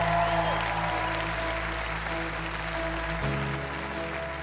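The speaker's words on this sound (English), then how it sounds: "A big round of applause," A crowd applauds steadily for Simon as he comes on stage at a Got Talent dog audition, with a sustained musical tone underneath throughout.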